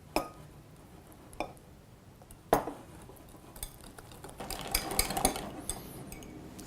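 Mayonnaise being whisked in a bowl as olive oil is drizzled in, giving quiet scraping and clinking of the whisk against the bowl, with sharper clinks at intervals and busier rattling toward the end; no talking.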